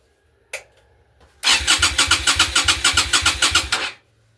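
A Yamaha motorcycle that sat unused for ten years cranks over on its starter after a brief click, a fast steady chug of about a dozen strokes lasting over two seconds, close and loud, without catching.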